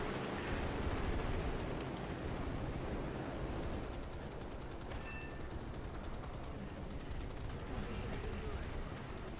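Continuous rattling machine gun fire from aircraft in War Thunder, a dense, steady stream of rapid shots throughout, fairly loud with a few brief tonal blips over it.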